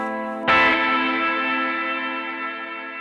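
A TC Electronic Arena reverb pedal on its church setting turns a single struck tone into a bright, bell-like ring that swells and then decays slowly over a long, even tail, with nothing else heard.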